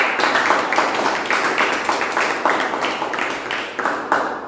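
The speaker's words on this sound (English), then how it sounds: "Give a big round of applause." A meeting audience gives a round of applause, steady dense clapping with rhythmic pulses, fairly close and alone without talk.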